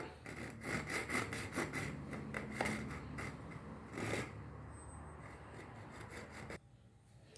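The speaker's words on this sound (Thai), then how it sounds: "ใช้ เลื่อยตะเล็กเลยนะครับ แล้วก็เดี๋ยวทำการ ตัดไปเลยนะครับ" A hacksaw rasps through a metal can in quick back-and-forth strokes, close and scratchy, then stops abruptly near the end.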